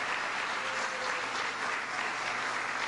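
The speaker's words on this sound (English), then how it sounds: "I think that deserves a round of applause" An audience applauds steadily throughout at a political event in Wheeling, West Virginia, a dense, even wash of clapping with no break and no talk.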